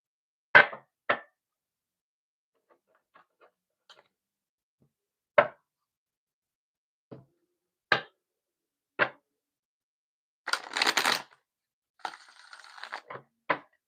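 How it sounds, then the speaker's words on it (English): Tarot cards being shuffled and handled on a table: sparse, sharp snaps and taps spaced several seconds apart, then a short rustling riffle near the end, close and otherwise quiet. "One more shuffle."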